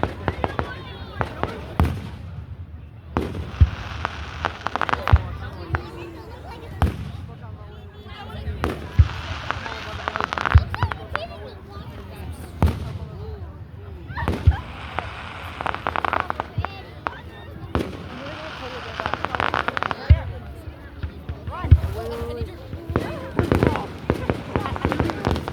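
A town's Canada Day fireworks burst outdoors in irregular bangs and crackles, some sharp and some rolling, with bystanders chatting and reacting between the explosions.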